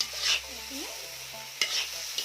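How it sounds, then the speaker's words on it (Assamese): Fried mutton being stirred in a pan for a mutton curry, a few close scraping strokes over a faint sizzle, with sharper clatters near the middle and end; no talking. "এতিয়া অলপ লৰাই দিছোঁ।"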